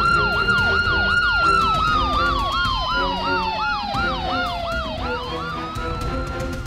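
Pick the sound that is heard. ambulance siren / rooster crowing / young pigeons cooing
ambulance siren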